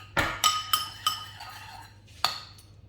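Ranch dressing stirred in a glass bowl, with a utensil striking the glass in sharp, bright clinks: four quick taps close together, a pause, then one final clink.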